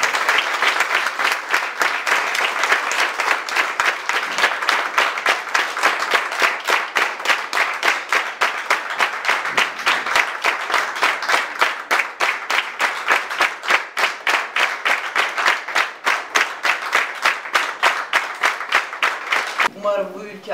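A crowd claps in rhythm at a protest against violence toward women, a loud and continuous burst of applause lasting about twenty seconds before it stops abruptly.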